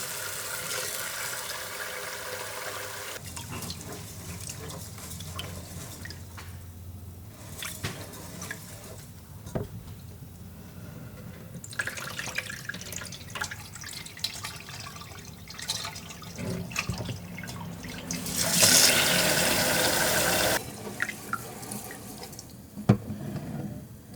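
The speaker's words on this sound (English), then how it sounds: "rinse the rice under running water until clear" Rice being rinsed in a sink under a running kitchen tap, with steady water flow, dripping and splashing, and a brief louder gush near the end; no talking.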